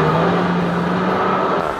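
A Renault Mégane RS engine with an automatic gearbox gives a steady, loud, close hum under load for under two seconds, with no voices.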